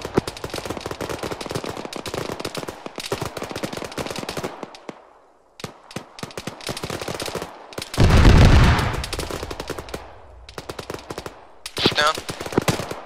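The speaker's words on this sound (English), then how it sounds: "Taking a lot of fire from east northeast." Enemy gunfire in the military shooter Arma 3, sustained rapid automatic bursts crackling almost nonstop, loud and close, broken by a brief lull and a deep rumbling blast before the shooting resumes.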